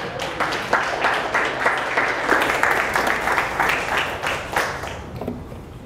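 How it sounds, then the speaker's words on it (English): A seated audience rises and gives sustained applause to welcome the next presenter, a dense, even wash of many hands clapping that holds steady for several seconds before starting to taper off. "Please stand and help me give a round of applause to our next presenter, Sahai."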